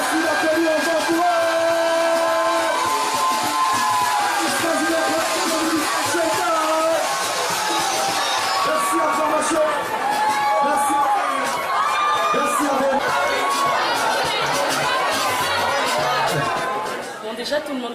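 A lively crowd cheers, whoops and chatters continuously, a dense wash of excited voices filling the room from start to finish.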